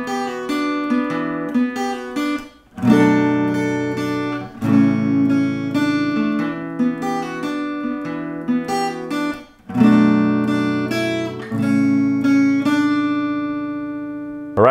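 A guitar plays a riff on its own, with clean picked notes in repeating phrases that pause briefly between passes, close and clear.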